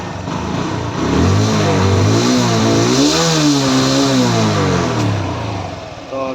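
A TVS Apache RTR motorcycle engine, converted from BS6 fuel injection to a BS4 carburetor, revs up and down in several loud, close surges over a steady running note, with no talking.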